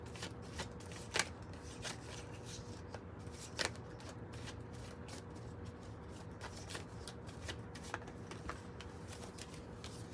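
Tarot cards are shuffled continuously with soft, close riffling and a few sharper snaps, held low under a steady background hum.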